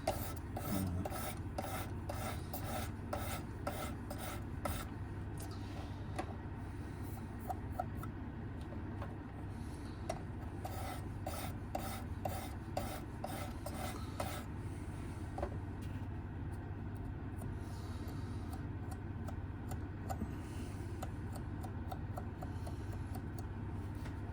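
A knife blade rasping over 320 and 600 grit stones on a Work Sharp Precision Adjust sharpener, steady rhythmic strokes in quick bursts with short pauses, close and continuous.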